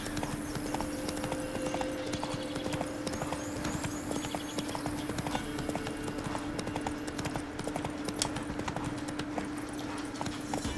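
Hoofbeats of a horse galloping steadily in The Witcher 3, a continuous rapid clip-clop under a constant game ambience hum, with no talk over it.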